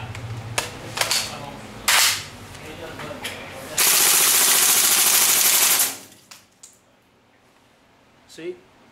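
An airsoft gun loaded with 0.2 g BBs and powered by green gas fires a few sharp single cracks. Then a loud, unbroken full-auto burst runs for about two seconds, with someone talking around the shots.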